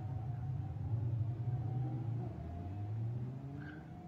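Lamborghini Super Trofeo race cars lapping the hot Misano circuit, a droning engine rumble that swells and then fades as the cars pass at a moderate distance, with no voices over it.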